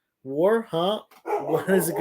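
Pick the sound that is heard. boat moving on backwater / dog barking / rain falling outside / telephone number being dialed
dog barking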